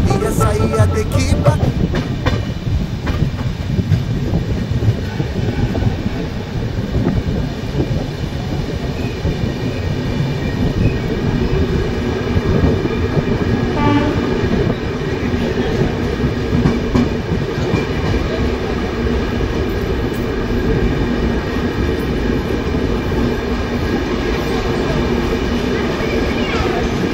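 Rupasi Bangla Express on the Santragachi to Purulia run, heard from on board as it rolls along the rails: a loud, continuous rumble with rhythmic clickety-clack of wheels over joints, with voices mixed in.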